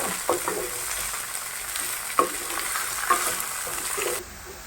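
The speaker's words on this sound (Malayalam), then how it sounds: "എന്നിട്ട് ഇളക്കി കൊടുക്കണം ഇത് ഇളക്കി കൊണ്ടിരിക്കണം" Mulberries fry in a pan for a pickle while being stirred, a steady sizzle broken by several scraping stir strokes, close up. The sizzling suddenly drops away near the end and no one speaks.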